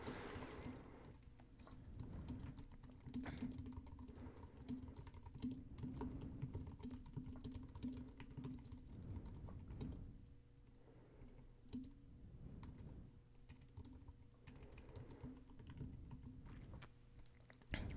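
Quiet, steady typing on a computer keyboard as a blog post is written, a close, continuous patter of key clicks with brief pauses and no talking.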